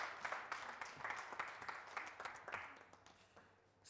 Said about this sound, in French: Je vais vous demander de faire un tonnerre d'applaudissements pour David et Sylvestre.